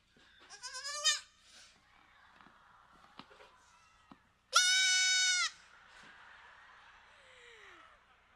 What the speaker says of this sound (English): to get just a little taste of what a sheep sounds like